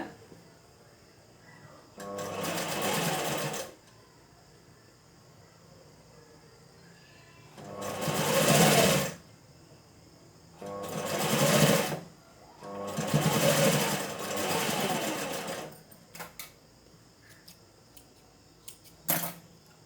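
A sewing machine stitches fabric in four separate runs of steady, close whirring, each lasting one to two seconds, with quiet pauses and small handling clicks between them.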